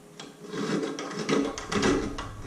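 A hand rasp filing a sterling silver ring, with several quick rough scraping strokes in a steady rhythm, close and fairly quiet.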